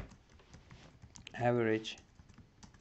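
Soft clicks and taps of typing on a computer keyboard run through the clip, quiet and close, while someone speaks over them.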